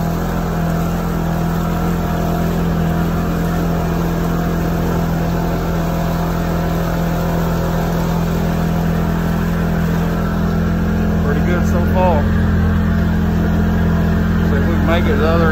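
A Polaris Ranger XP 1000 side-by-side engine runs loud and steady at about 5,000 RPM while pulling a load, a continuous droning roar filling the whole clip.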